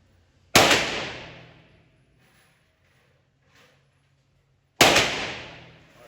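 Two loud, sharp CZ Scorpion firearm shots a few seconds apart, each bursting out with a long echoing decay outdoors, with quiet gaps between.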